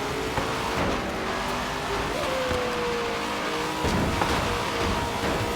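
A modified, tuned BMW Z4 GTE race car roars through the Goliath race in Forza Horizon, its engine droning loudly with rising and falling pitch as it shifts, and brief tire squeals over the constant engine noise.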